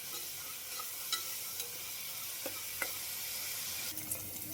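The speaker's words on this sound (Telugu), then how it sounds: "ఆవాలు జీలకర్ర కరివేపాకు ఆనియన్ అయితే బాగా వేయించేసుకుంటానండి పోపులోకి" Mustard seeds, cumin, curry leaves and onion frying in oil for a sambar tempering, a soft continuous sizzle with scattered small pops and crackles, quiet and close.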